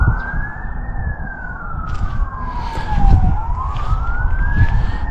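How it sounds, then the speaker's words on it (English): A police car siren passes with rising and falling wails, loud and close, over a steady rumble of traffic; the sweeping tone peaks and dips twice before climbing again. No one speaks. "In the distance to the north of me, I do hear another siren."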